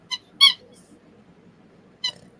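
A small squeaky dog toy being chewed gives three sharp, high squeaks close by, the middle one loudest, with quiet gaps between them.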